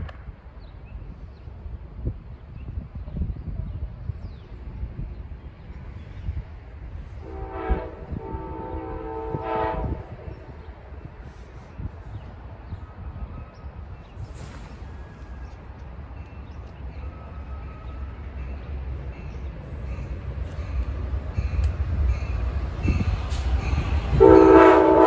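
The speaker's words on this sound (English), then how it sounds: "this train will be arriving shortly on track 3, which is closest to the station" An Amtrak passenger train rumbles into Alexandria station on track 3 with low rolling noise that grows louder, punctuated by two horn blasts, one midway and one near the end.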